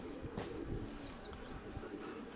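Soft pigeon cooing with a few faint chirps against a steady background hum, quiet and somewhat distant.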